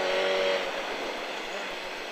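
A motorcycle on the Le Vigeant race track roars in a steady, dense engine and wind rush that stays fairly loud and even throughout.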